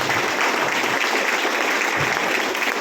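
An audience at a business-plan meeting bursts into loud, dense applause, continuous close clapping throughout the short stretch.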